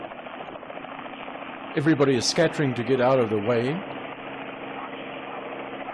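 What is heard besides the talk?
helicopter taking off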